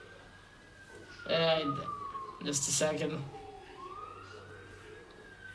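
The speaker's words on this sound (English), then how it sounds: "Ambulance." An ambulance siren wails past in a steady rising and falling sweep, loud and close, while people talk briefly over it.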